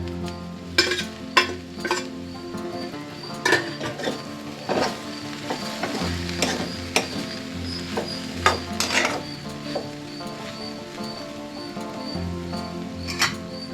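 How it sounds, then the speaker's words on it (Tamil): Raw banana podimas being stirred in a pan with crushed garlic, giving repeated scraping and clinking strokes of a spoon against the pan over a low steady cooking noise, close and moderately loud. "அஞ்சு நிமிஷத்துக்கு அப்புறம் ஓப்பன் பண்ணி திருப்பியும் ஒரு வாட்டி மிக்ஸ் பண்ணி விடுங்க."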